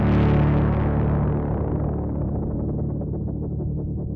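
A Moog Matriarch synthesizer plays one bright, distorted tone that swells and decays over four seconds, with its pulsing modulation steadily slowing as the envelope drives the LFO rate, loud and unaccompanied.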